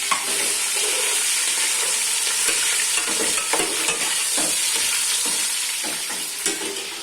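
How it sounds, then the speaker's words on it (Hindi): Onions with garlic, ginger and green chili fry in a pot, giving a continuous loud sizzle with scraping stir strokes scattered throughout, close and with no talking. "अब डाल देते हैं इसमें लहसुन और अदरक और हरी मिर्च इस तरह से"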